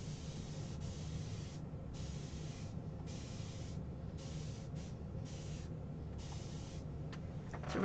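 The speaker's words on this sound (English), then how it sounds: "And I'm going to spray it before it doesn't get too dry." Bursts of water spray hiss over a painting in short, regular pulses of about half a second, with brief pauses between them, fairly close and steady.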